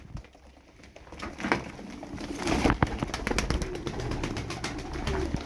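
Turkish game pigeons coo softly at close range, with sharp bursts of wing-flapping and clapping over a low, busy background.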